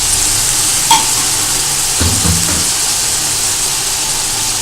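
Spicy Chinese fried rice is stirred in a hot pan, giving a loud, steady frying hiss with a few brief scraping and clanking strokes partway through, no talking.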